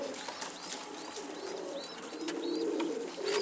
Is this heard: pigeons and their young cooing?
yes